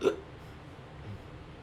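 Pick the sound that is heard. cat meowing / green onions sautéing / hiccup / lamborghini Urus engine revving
hiccup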